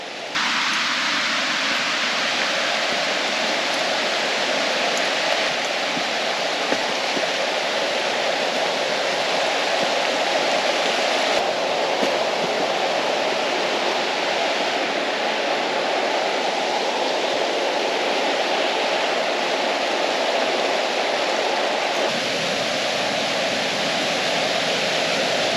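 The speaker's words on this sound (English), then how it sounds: "Haynes Falls." Haynes Falls on the Fiery Gizzard Trail pours in a steady, broad roar of falling water that holds level the whole time, with no voices over it.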